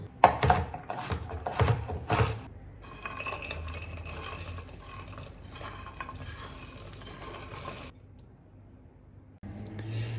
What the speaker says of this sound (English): So now I'm going to just chop the nuts a wee bit smaller